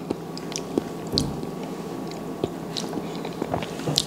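Someone bites and chews through a seafood boil coated in sauce, giving wet squishing and small crunches with a few sharper bite clicks. The sounds sit close and moderately faint over a steady low room hum, and no one speaks.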